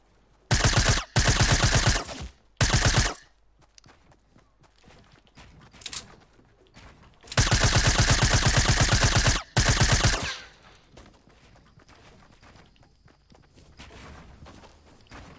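SMG gunfire in a video game, loud rapid automatic bursts in several separate strings with a longer sustained burst near the middle, then quieter footsteps and faint ambient game sounds.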